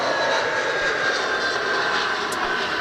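A Jetstar airliner's engines at Adelaide Airport give a loud, steady roar that stays close and continuous throughout, with no voices over it.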